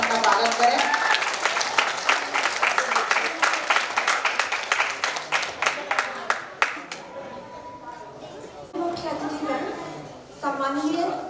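An audience at a 217th Louis Braille birth anniversary ceremony claps loudly to welcome a speaker for about seven seconds. The applause then thins out and talking follows.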